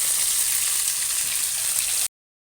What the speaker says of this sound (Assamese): ইয়াতে মাছ ভাজি আছে